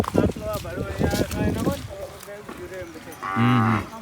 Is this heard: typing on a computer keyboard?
no